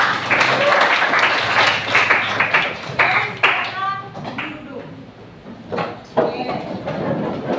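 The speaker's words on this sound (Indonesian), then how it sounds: "tepuk tangan untuk kita semua" Classroom applause with children clapping their hands together, a dense burst of claps that fades and returns, with children's voices talking over it.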